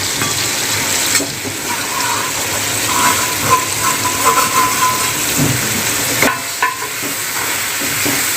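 Semolina for sheera fries in a pan, giving a loud, steady sizzle close by, with occasional scraping knocks as it is stirred.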